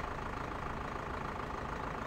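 A tractor engine idles in Farming Simulator 2015 with a steady, loud, low droning rumble that holds unchanged throughout, with no voices over it.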